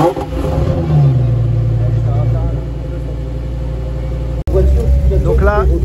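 Lamborghini V10 sports car at a circuit meeting revving hard with loud, rising throttle blips close by, while people talk over the engine noise throughout.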